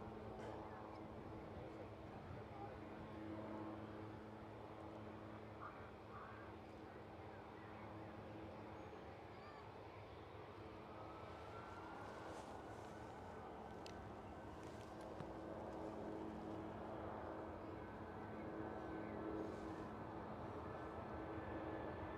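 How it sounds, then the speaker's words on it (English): A microlight aircraft flies near Edinburgh Airport, its engine a distant, steady droning hum that rises slightly over time amid background wind and ambient noise. "Oh, it's a microlight."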